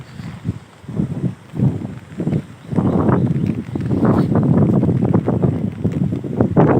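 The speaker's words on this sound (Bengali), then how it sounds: "প্রচুর পরিমাণে বাতাস বাতাস দিতেছে" Strong gusty storm wind over crop fields buffets the microphone in heavy, roaring bursts that grow steadier and louder toward the end.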